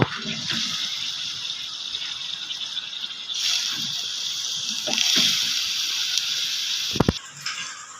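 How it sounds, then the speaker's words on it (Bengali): Water being poured into a cooking pan while a budget home recipe is prepared, a steady broad rushing gush lasting throughout, swelling slightly midway, with a couple of soft clinks near the end and no talk. "জল দেবো।"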